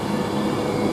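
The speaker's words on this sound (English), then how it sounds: "Now we are leaving the 13:17 service, late running from Glasgow Central towards London Euston" A late-running Glasgow Central to London Euston train pulls out of Milton Keynes Central station, a loud, steady rolling rumble close by with no talk.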